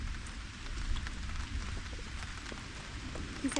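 Outdoor rain falling in a continuous, moderate hiss with scattered drop patters, fairly close and steady throughout.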